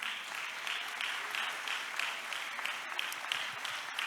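A church congregation keeps up steady, dense applause, many hands clapping together in an even wash that holds throughout, heard from a moderate distance.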